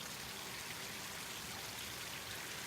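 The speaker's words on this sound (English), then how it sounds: "Little water sounds." Water trickles and patters continuously outdoors, a soft, even hiss of small drips and flowing water with no voices, faint and steady throughout.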